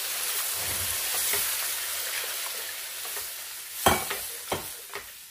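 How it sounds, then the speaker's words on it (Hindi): Milk stirred into a pan while making white sauce (Alfredo) pasta gives a steady close hiss, with a few sharp spoon scrapes and clinks toward the end and no talking. "अब मैं इसमें डालूंगी दूध, 1 कप के अराउंड में इसमें दूध डालूंगी।"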